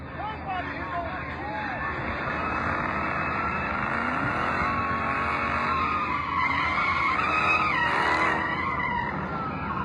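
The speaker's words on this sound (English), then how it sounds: "All these idiots in the car just doing donuts." Car doing donuts near a street gathering, tires skidding and squealing continuously with engine noise, heard at a moderate distance under a crowd's babble and shouting.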